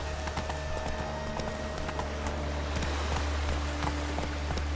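Roach the horse galloping in The Witcher 3: Wild Hunt, a fast rhythmic run of hoofbeats, loud and close over a constant game ambience and music drone.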